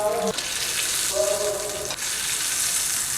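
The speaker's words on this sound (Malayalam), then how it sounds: "വറുത്തെടുത്ത് കടുക് ഇതിലേക്ക് ഇട്ട് കൊടുക്കാം" Fried mustard seeds are tipped into a pot of raw mango and yogurt curry, giving short bursts of hissing sizzle that fade and return, close by.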